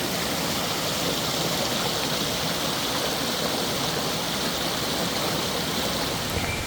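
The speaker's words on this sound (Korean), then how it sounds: "물소리가 시작되는 곳은 세련폭포였습니다. 큰 물줄기는 아니었지만 맑게 흐르는 물소리가" Clear stream water pouring at Seryeon waterfall on Chiaksan mountain, a steady, close, dense rush of flowing water continuing unchanged throughout with no voices.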